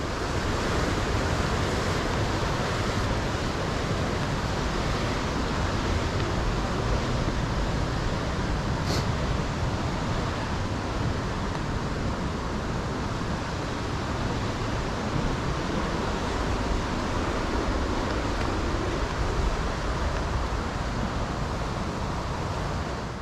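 Laurel Falls pours in a loud, continuous roar of falling water heard up close, a dense unbroken wash that holds steady throughout with no voices over it.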